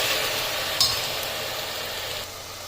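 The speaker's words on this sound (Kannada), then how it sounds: "ಇದನ್ನು ಚೆನ್ನಾಗಿ ಫ್ರೈ ಮಾಡಬೇಕು" Ground masala paste for mushroom biryani frying in a pan makes a continuous hissing sizzle, even and moderately loud, with a faint clink early on and no talking.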